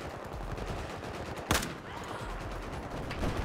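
Gunfire in the Battlefield 4 video game: a single sharp, loud shot stands out near the middle above a steady bed of distant battle noise and rumble, with no talking.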